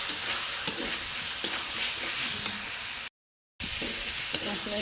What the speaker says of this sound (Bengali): এখন আলুগুলো দিয়ে দেবো। আলুগুলো দিয়ে সামান্য একটু কষিয়ে নেব।